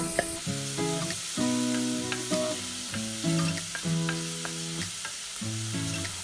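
Chopped ginger, garlic, shallot and lemongrass fry in hot oil in a medium pot over medium heat, with a constant close sizzle and a few clinks of a utensil as they are stirred, for a Burmese chicken and bottle gourd curry.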